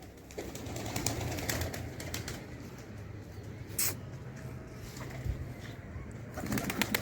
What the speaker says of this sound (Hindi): फड़फड़ा रहे थे सब कबूतर मेरे